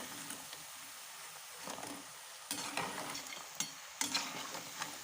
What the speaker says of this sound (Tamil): எண்ணெய் சலசலப்பு அடங்கணும்னு நம்ம எடுத்துடலாம்.